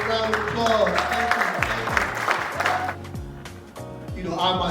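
Applause from an audience at an arts and wellness event on prison re-entry, moderate clapping mixed with voices talking over it and tapering briefly near the end.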